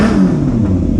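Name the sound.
Yamaha YZF600R Thundercat motorcycle engine revving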